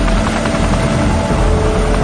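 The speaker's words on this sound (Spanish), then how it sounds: "Se usan helicópteros Chinook para lanzar el agua desde el aire." A Chinook helicopter flying over to drop water from the air, its rotors giving a loud, steady, close throbbing roar with no voices.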